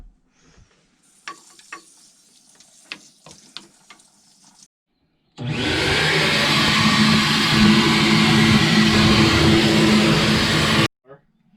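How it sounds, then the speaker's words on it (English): After a few seconds of faint clattering and handling noises, a wet-dry vacuum roars on and runs loudly and steadily for about five seconds before shutting off. "vacuum it up with the wet to dry vac"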